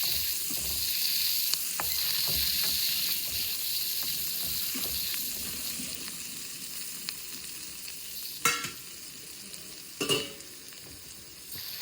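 Dry fish curry with ghee is stirred in a pot in a village-style kitchen, giving a soft continuous sizzle with a few scraping clinks of the spoon against the pot.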